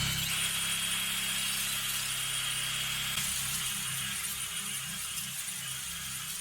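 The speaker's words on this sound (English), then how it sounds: "I have a wire brush that's on my drill" Wire brush chucked in a power drill scrubs a rusty exhaust pipe, a steady whirring, grinding hiss that runs continuously at moderate distance, with the pitch and texture shifting midway as pressure changes.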